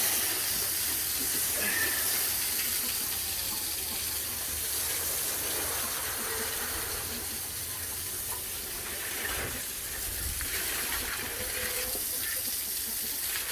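A hose sprays water over a dirty farm animal area, giving a steady, loud hiss that carries on without a break and shifts slightly in tone as the spray moves.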